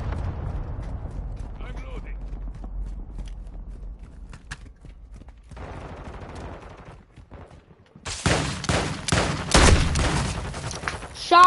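Shotgun blasts and gunfire in an online shooter game come in a sharp, loud burst of shots near the end, following a quieter stretch of muffled game noise and scattered clicks.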